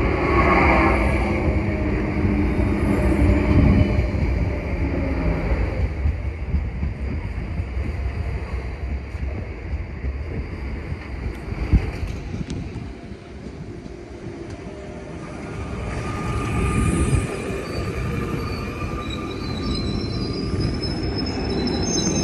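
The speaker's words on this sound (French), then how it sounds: "Ça arrive avec une Z2500." An SNCF Z2500 commuter train pulling into St-Denis station, loud rumbling wheels and carriages rolling close by, easing and then swelling again, with squealing brakes toward the end.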